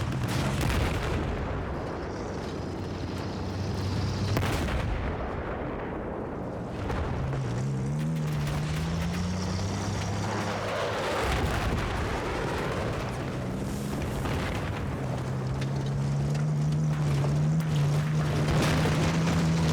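Video game buggy engine droning loudly and steadily through a combat mix, with heavy gunfire and tank cannon blasts layered over it, the engine tone pulling back as bursts of fire hit.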